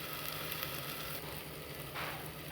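Ginger garlic paste frying in a pan over low heat, a steady soft sizzle running close and continuous throughout.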